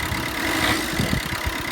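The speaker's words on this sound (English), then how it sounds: "I know it's a bit cold, but give it a little rev" The engine of a cold 2014 ex-fleet van with freshly replaced injectors, once a non-runner, rises in a brief rev over a rough, uneven idle, loud and close with knocking pulses in the low end.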